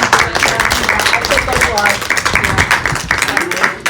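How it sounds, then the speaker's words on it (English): Applause for an eliminated contestant on an amateur Survivor-style competition, a short burst of close, brisk hand clapping from a small group, with voices mixed in. "Give him a round of applause again"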